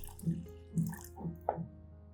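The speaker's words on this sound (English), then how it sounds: "Take a plastic cup like this and pour some filtered water into the bottom of the cup." Filtered water splashes into a small plastic cup in four short bursts, close by, with a faint hum underneath and no talking.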